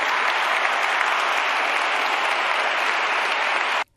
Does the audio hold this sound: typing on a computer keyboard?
no